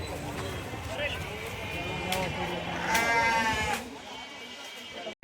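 Kenguri sheep and lambs bleat in a busy goat and sheep market, several short calls rising over a steady crowd murmur, with people talking nearby and moderate overall loudness.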